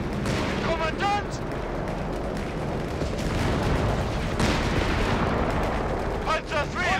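A Panzer III tank cannon fires in Company of Heroes 3 amid a dense battle din of rumbling blasts and clatter, with voices calling out over the noise.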